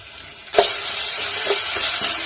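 Ginger garlic paste hits hot oil in a pan with softened onions and tomatoes for a home-cooked chicken curry with ridge gourd. A loud, dense sizzle bursts up suddenly and then holds steady, broken by a few faint stirring scrapes.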